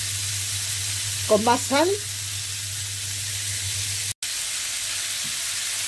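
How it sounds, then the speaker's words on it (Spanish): Pollock sautés with onion and garlic in a pan, a soft, steady sizzle over a low hum, with a brief spoken phrase early on and a short dropout near the end. "y lo voy rehogando"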